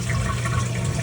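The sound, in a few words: toilet flush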